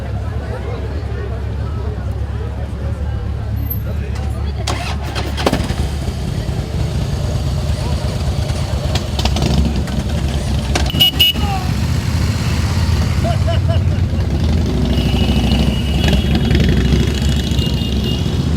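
Motorcycle engines idle and rumble steadily at a Christmas parade, a continuous low drone with occasional revs, under a voice talking.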